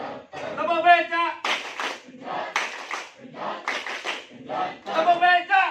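A school group at SMAN 1 Gondang loudly chants the tepuk becak clapping routine, voices calling out in unison with rhythmic hand claps marking the beat in short repeated bursts.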